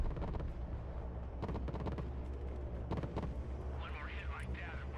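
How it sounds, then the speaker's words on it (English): Video game battle gunfire and artillery boom in heavy, irregular bursts over a constant rumble, with a voice talking over the fighting. "They're firing at us pretty good"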